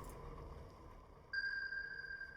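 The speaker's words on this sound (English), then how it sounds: "Let's get some sonar on." Submarine sonar in Strategic Mind: The Pacific starts suddenly as a steady, pure electronic tone held for about a second after a short quiet stretch, clean and moderately loud over a faint background hum.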